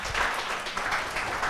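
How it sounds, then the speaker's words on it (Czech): Steady applause from a small group at a Czech late-night talk show, continuous patter of clapping hands filling the short moment without speech on top. "Za upřímnost se tleská."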